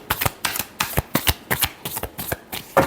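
Tarot cards being shuffled by hand, a rapid series of crisp riffling flutters and taps repeating about a dozen times in quick rhythm, close and clear with no talking.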